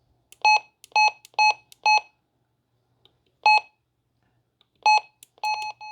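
Sharp electronic beeps from a Retevis RT95 radio transceiver sound loud and close, a run of four quick ones, a pause, one more, then several more in an uneven burst.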